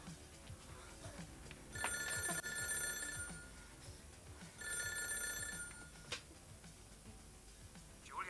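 A telephone bell rings in two long bursts separated by a pause, in a dubbed TV soap opera scene, heard fairly clearly over a soft, busy background with no speech.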